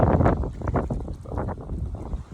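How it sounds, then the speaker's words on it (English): Strong wind at Keuka Lake buffets the microphone in heavy low gusts, rumbling and roaring in uneven surges. "it's very windy"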